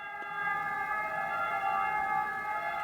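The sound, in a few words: siren sound effect in an audiobook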